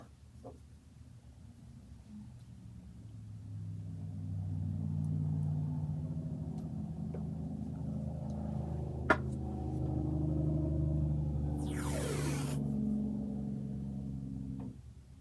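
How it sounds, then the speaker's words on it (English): A noisy road vehicle, likely a semi truck, rumbles past with a low engine drone that builds, holds loud for several seconds and then fades, with one sharp click midway. "That was a noisy car."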